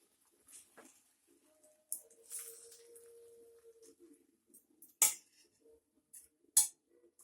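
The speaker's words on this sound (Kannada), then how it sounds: "ಒಂದು ಬೌಲಿಗೆ ಸರ್ವ್ ಮಾಡ್ತಾ ಇದ್ದೀನಿ" Menthe kadubu being served into a bowl in a home kitchen: faint scattered clinks and scrapes of utensils, with a few sharper metallic taps standing out against near silence.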